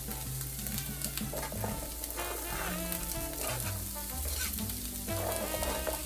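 Chopped celery and carrots cooking in a pan for bolognese, a continuous close sizzle with occasional stirring scrapes, no voices over it.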